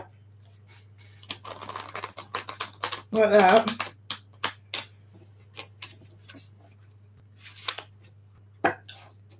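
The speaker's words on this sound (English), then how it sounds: "It's a tarot shuffle, that is. It's a shuffle." Tarot cards are shuffled during a live reading, giving a brief papery riffling burst in the middle. Scattered clicks and taps come before and after it, and people talk throughout.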